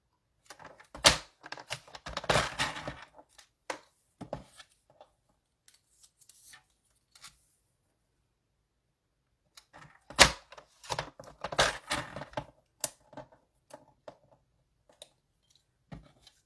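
Paper cut down to size on a paper trimmer at a card-making desk: two clusters of sharp slicing and clicking strokes, separated by a long quiet stretch, close and fairly faint.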